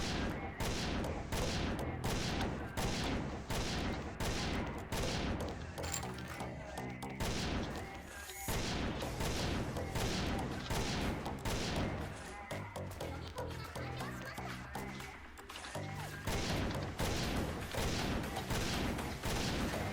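Sniper rifle gunfire in the shooter game XSHOT comes as a dense, continuous barrage of close, loud shots with mechanical clatter, and battle noise fills nearly every moment.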